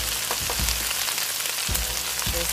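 Sliced white parts of spring onion sizzle loudly in hot oil with peppercorns in a pan, a dense continuous crackle broken by a few scraping stirs, close and alone.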